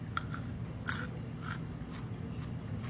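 Crunchy bites into pickled Jerusalem artichoke, several crisp close crunches and chewing sounds spaced irregularly, quiet and without talk.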